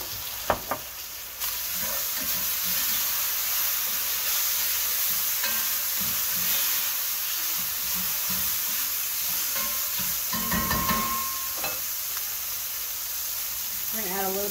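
Soy sauce and aji amarillo paste hit a hot pan for lomo saltado, giving a loud, steady sizzle with occasional stirring scrapes and clicks throughout.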